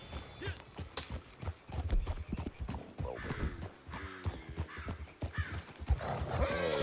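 A video game horse's hooves clip-clop steadily and the horse whinnies, while someone briefly speaks over it.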